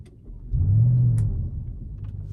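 An Audi RS6 Avant Performance engine revs while driving, a short, deep, close rumble that swells after half a second, holds, then eases back to a lower drone.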